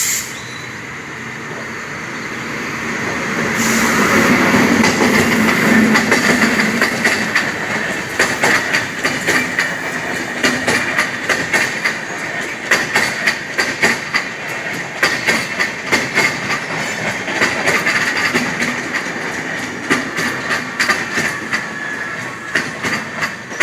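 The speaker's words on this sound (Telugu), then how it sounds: "మొత్తానికి మెమో కూడా వస్తుందండి." A Rajahmundry MEMU passenger train pulls into a station platform at Platform 1, its rumble building then settling into a steady clickety-clack of wheels over rail joints with hissing brakes, heard up close.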